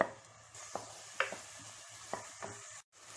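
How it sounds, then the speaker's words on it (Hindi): Chopped onions lightly sautéing in a pan for chilli chicken korma, a soft steady sizzle broken by a few stirring scrapes, heard close and fairly quiet with no talking. "इसको हल्का सा सॉटे कर लें, ज्यादा नहीं, इसका कलर चेंज नहीं होना चाहिए"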